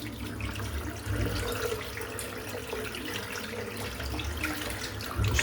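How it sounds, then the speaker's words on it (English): Warm water runs steadily from a tap into a bathroom sink, a constant close splashing hiss at a moderate, even level with no talking. "I'm just going to run some warm water."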